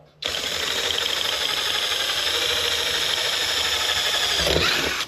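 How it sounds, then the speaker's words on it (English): A power drill whirs loudly and continuously for several seconds, starting abruptly and cutting off at the end, close to the listener. "see if I can drill a couple holes through this stuff"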